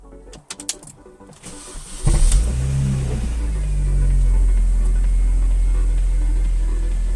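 A Mini Cooper R53 engine cranks and catches, then settles into a steady, loud, close idle rumble. A few clicks and handling noises come before the start.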